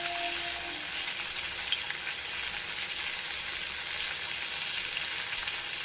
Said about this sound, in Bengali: দেখি ফুলকপি তেলের উপর ছেড়ে দিয়েছি